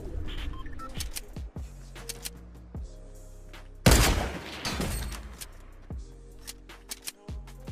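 Sniper rifle gunfire from a Fortnite match: scattered game sounds and thuds, then one sharp loud shot with a trailing echo, followed by further soft impacts.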